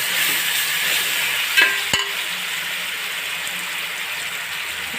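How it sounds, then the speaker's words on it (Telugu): Ginger garlic paste fried with softened tomatoes for mutton dum biryani, giving a steady, close oil sizzle throughout with one brief sharp utensil clink partway. "ఇప్పుడు అల్లం వెల్లుల్లి పేస్ట్ వేస్తున్నానండి."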